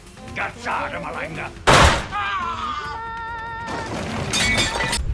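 A single sharp gunshot cracks out suddenly amid tense music and voices, loud and close, followed by ringing tones.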